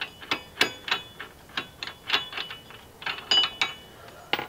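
A ratchet turns the axle nut loose on a 2006-2013 Chevy Impala wheel hub, giving a string of quick, uneven metallic clicks and ticks, close and moderately loud, with short pauses between bursts.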